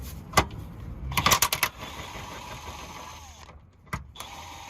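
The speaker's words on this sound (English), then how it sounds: "now we can use a power wrench" Power wrench loosening the lower control arm bolts on a 2009-2014 Honda Insight hybrid, a loud rapid burst of impact hammering followed by a few shorter bursts, close by with no talk.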